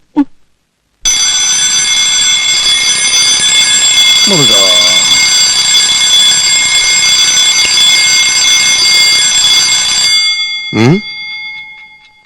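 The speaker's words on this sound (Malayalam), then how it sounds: "ഇതാരാ 3 മണിക്ക് അലാറം വെച്ചത്?" An alarm clock set for three in the morning rings with a steady, loud electronic tone for about nine seconds, then cuts off; a voice briefly speaks over it midway and again right after.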